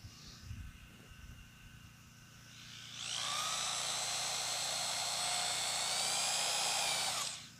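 A power drill drives 3 1/8 inch Torx head screws into an ice fishing sled, a steady high whine rising abruptly after a quiet start and running several seconds before stopping, loud and close with no talk.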